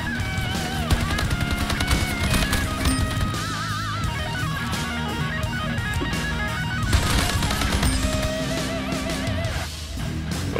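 Submachine gun fire in the Splitgate arena shooter, a steady rattle of rapid shots amid busy game sounds and music, continuous and fairly loud for the whole stretch.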